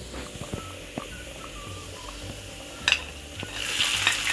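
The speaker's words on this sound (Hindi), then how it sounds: "अब 8-10 जवे लहसुन के शामिल कर दूंगी और इन्हें हल्का ब्राउन कर लेंगे।" Garlic cloves frying with onions in a pan for a chana and masoor dal dish, a soft low sizzle with occasional utensil knocks and a louder hissing surge near the end.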